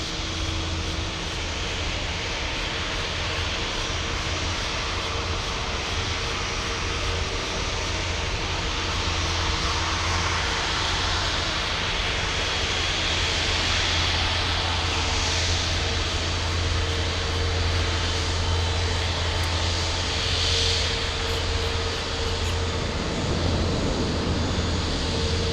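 A Qatar Airways jet takes off at Miami International Airport, a loud, steady engine roar with broad rushing noise that persists and swells slightly without a break.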